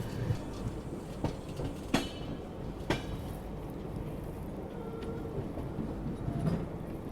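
The Purushottam Express rolls through railway crossings near Kanpur, its wheels giving a steady rumble broken by sharp clacks and thumps at rail joints, heard moderately quietly from on board.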